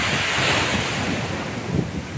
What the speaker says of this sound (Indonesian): Ini ombaknya di laut Maruni ini kencang, ini lagi musim angin Bunda.